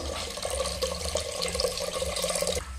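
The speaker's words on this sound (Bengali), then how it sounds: "এই যে দুধ ঢালা হচ্ছে দুধটা এখন গরম করে নেব" Milk is poured into a pot for heating, a continuous splashing liquid pour lasting under three seconds that stops abruptly, with no voices.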